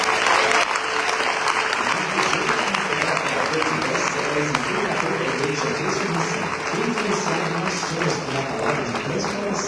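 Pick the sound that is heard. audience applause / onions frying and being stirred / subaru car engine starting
audience applause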